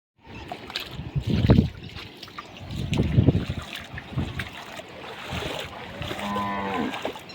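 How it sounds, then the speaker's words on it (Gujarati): The Bhogavo river runs in flood after days of rain and a dam overflow. Water rushes steadily with broadband noise and heavy wind buffeting, swelling in two loud surges near the start and middle. "ભોગાવા નદી 2 કાંઠે જ આવવા માંડી ભાઈ"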